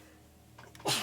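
A single sharp sneeze bursts out near the end after a quiet stretch, close and fairly loud.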